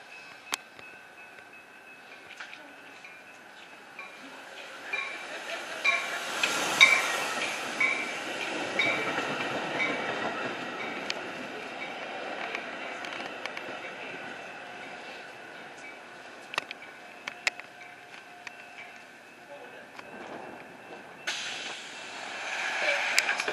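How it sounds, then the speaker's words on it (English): Inbound Metra commuter train pulling into the Lake Forest station toward Chicago, a long rumbling approach with wheel clatter and brake squeals that swells near the platform and stays loud throughout. "inbound Metra train to Chicago is now arriving in your station."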